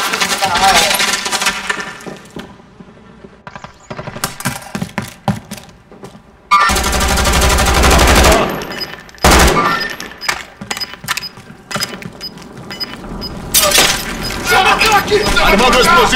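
Gunfire in Call of Duty Warzone, sharp cracking shots and rapid bursts scattered across the clip, some loud and close, mixed with dense noisy stretches and clinking.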